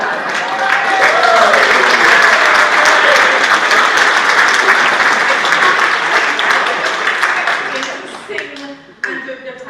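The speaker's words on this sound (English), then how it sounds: "I think Martin needs a particular round of applause." Sustained audience applause in a church for a performer named Martin, thick and even at first, then thinning and tapering into scattered claps near the end.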